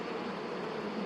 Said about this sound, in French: C'est tellement surprenant comment elles réagissent les abeilles des fois.